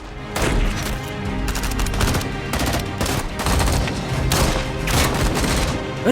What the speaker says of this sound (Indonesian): tanpa berlama-lama aksi baku tembak pun gak bisa dihindarkan